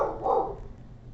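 A pet dog named Brenda barks once or twice, a short muffled burst close by indoors, then fading into quiet room noise.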